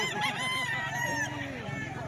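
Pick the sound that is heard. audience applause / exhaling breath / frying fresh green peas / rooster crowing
rooster crowing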